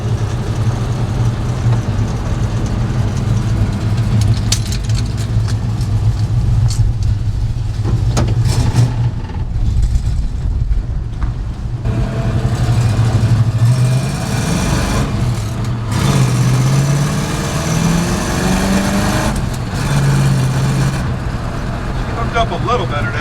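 An abandoned Chevrolet C10 truck that sat parked for ten years, its engine running and revving in uneven swells, loud and close, with a steady low rumble throughout and a person talking over it.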